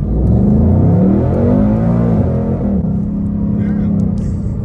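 A 2021 Ford Mustang Mach 1 in sport mode accelerates hard, its engine note rising loudly and sweeping upward before easing off to a lower steady drone, heard close from inside the car.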